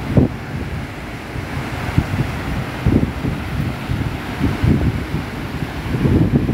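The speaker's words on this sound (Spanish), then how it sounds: "escuchen cómo a lo lejos se escuchan las olas, cómo rompen" Distant surf breaks on a Veracruz beach during a strong storm swell, with low rolling surges rising every second or so under heavy wind rumble and microphone buffeting.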